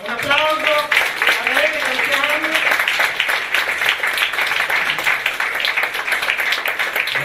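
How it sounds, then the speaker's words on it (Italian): Audience applause at the Vassilij Kandinsky 'Musica e Colore' award evening in Padova, dense steady clapping that builds after a brief spoken introduction and carries on loudly to the end. "Red Canzian, un applauso."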